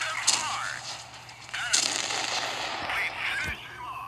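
Tank cannon shots from an M4 and FL10 match in a tier 7 tank video game, with sharp blasts near 0.3 and 1.7 seconds and a softer one around 3.5 seconds, layered over a steady engine drone and game noise.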